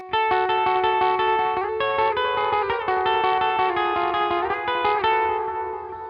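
Electric guitar playing sustained chords and notes with a delay effect, repeats trailing behind each strum, loud and continuous throughout.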